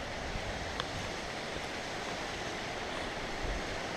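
Waterfall on a mountain stream sends up a steady, broadband rush of falling water, constant and fairly close, with no voices over it.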